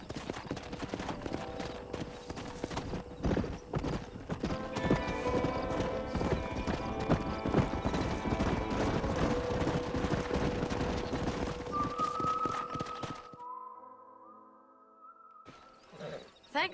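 Horse hooves clip-clop at a gallop from a stallion at MacFarlane's Ranch in Red Dead Redemption 1, steady and loud with rhythmic drumming, a whinny mixed in, before the hoofbeats stop near the end and a brief quiet follows.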